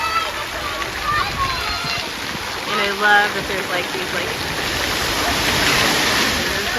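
Water splashes and rushes steadily across a splash pad water play area at a Peppa Pig theme park in Florida, with a person talking over the constant spray.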